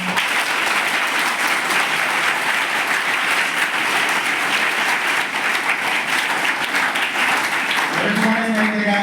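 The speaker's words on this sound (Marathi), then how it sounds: "टाळ्या जोरानं वाजवा." Schoolchildren at Saraswati High School in Amravati applaud loudly and continuously, a thick wash of many hands clapping, and near the end a voice begins to speak over the fading claps.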